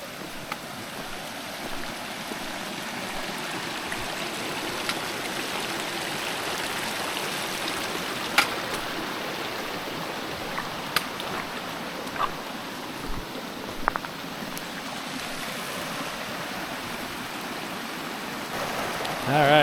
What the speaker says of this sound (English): switch to water shoes for two big creek crossings here